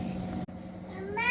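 A cat meows once near the end of a brief moment, a rising close call that follows a voice speaking at the start.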